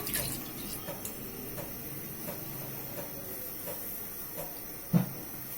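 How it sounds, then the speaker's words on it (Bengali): Water poured into a cooking pan already holding milk made from powdered milk, for gur khirsha patishapta pitha; a faint, steady splashing wash with a single brief knock near the end. "আর পানি অ্যাড করছি।"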